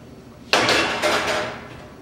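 A cookie sheet slides into an oven and the door bangs shut: one sharp metallic clatter followed by a second softer knock, close and fairly loud in a quiet kitchen.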